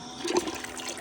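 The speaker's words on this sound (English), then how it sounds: "I put it in clean water pump, and I be pumping clean water to see how much more comes out" Clean water pushed through a small pump during gold-recovery separation work, a brief gurgling rush of liquid peaking near the middle of one second, close and fairly loud over a steady hiss.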